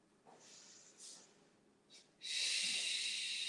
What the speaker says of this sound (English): Let us breathe 3 breaths here.